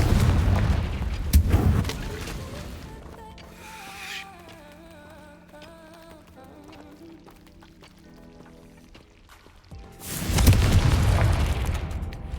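A Confringo fire spell explodes in Hogwarts Legacy as a loud, close boom with a rumbling burst near the start, followed by a quieter musical stretch, then another heavy blast and roar near the end.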